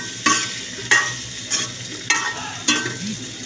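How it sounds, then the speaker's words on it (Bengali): Egg and potato curry stirred in a pan, four regular scraping strokes about every 0.6 seconds, close and clear over a low sizzle. "এইভাবে ভালোভাবে নাড়াচাড়া দিতে হবে যাতে নিচে আটকে না যায়"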